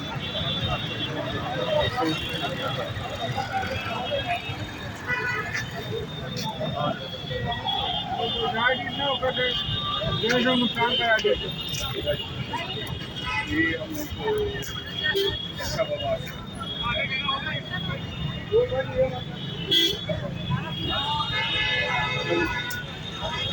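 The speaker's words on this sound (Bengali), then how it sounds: "এদিকে একটা ব্যস্ত রাস্তা" Steady busy road traffic on a roadway near a station during a large festival gathering, a continuous wash of passing cars and engines with crowd babble mixed in throughout.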